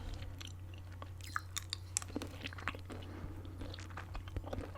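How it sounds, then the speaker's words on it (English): Chewing gum close to the mic, with moist smacking and soft clicking bites repeating irregularly over a low steady hum, no talk. "I'm gonna grab another piece of gum."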